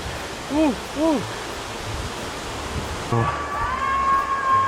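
A waterfall in a Chiang Mai rainforest roars as a steady wash of broadband noise, with people's voices and exclamations rising briefly above it.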